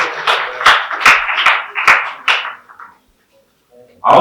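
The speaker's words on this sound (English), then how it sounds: "A round of applause for Mr. Suleiman." Audience at a business fair in Nigeria gives scattered applause, a handful of distinct, fairly close hand claps in an irregular rhythm that fades out, followed by a brief voice.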